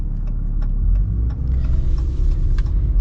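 A lifted 2024 Ram Mega Cab pickup truck on the road, heard from inside as a loud steady low engine and road rumble with faint ticking and rattles above it, no talk.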